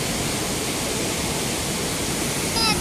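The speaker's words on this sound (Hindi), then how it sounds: "देखे ना सैलाब आया हुआ" Flood water rushes through Shadara Valley near Islamabad, a steady loud roar of torrent noise filling the whole stretch with no letup.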